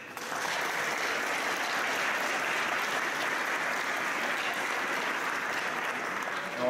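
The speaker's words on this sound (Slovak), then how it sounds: "za to si zaslúžia potlesk." A village audience at a Christmas concert in Teplička nad Váhom applauds the performers, a dense, steady wash of many hands clapping from start to finish without talk.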